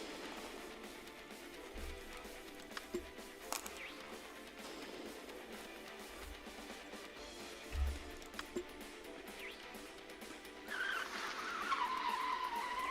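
Car racing in the video game Nina Aquila Legal Eagle: engine hum and tire skidding run under game music, with brief squealing slides and a louder rising stretch near the end.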